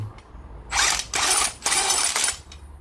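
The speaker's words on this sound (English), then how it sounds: "So I'm having to use a socket to get it started." A socket wrench ratchets a nut onto new threaded rod during a school bus roof raise, three close, loud bursts of rapid clicking separated by brief pauses.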